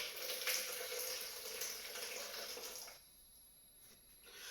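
Boiling water pours in a steady rushing stream into a measuring container for about three seconds, then stops, leaving quiet room tone.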